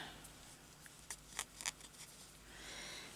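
Faint, quick scissor snips cutting embroidery thread, a few short crisp clicks clustered in the middle against a quiet room hiss.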